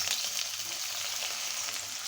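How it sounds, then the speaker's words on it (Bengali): Onions sizzle steadily in hot oil as they fry down to crisp brown berista for a Bengali dried fish chorchori, a close, continuous crackle with no voices. "আমি পেঁয়াজ বেরেস্তা করে নিব"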